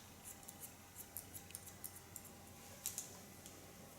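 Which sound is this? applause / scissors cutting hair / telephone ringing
scissors cutting hair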